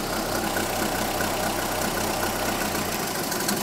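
A car engine runs steadily after work on its ignition, a continuous close mechanical drone with a low throb that shifts slightly in pitch as the revs change.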